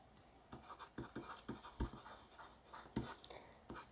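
A pen writes on paper while an accounting problem is worked out, making a run of short scratchy strokes at a steady pace, close and fairly quiet, with no talking.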